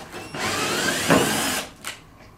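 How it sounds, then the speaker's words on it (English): A power drill drives a screw into an old timber floorboard in a centuries-old house, a steady motor whine for about a second and a half with a brief strain midway, then a short second burst. "screw another screw next to the screw that won't come out, technically anyway, it holds onto the head and it pulls it up as you're screwing"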